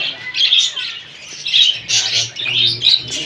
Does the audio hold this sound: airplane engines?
no